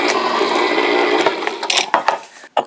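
A Rival electric can opener works on a large 28-ounce tomato can, giving a close mechanical grinding whir that runs steadily, then stutters and cuts out into a few clicks and clunks.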